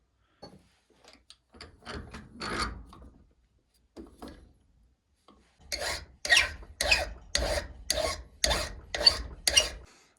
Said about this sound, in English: now that I've got these things filed down, they're better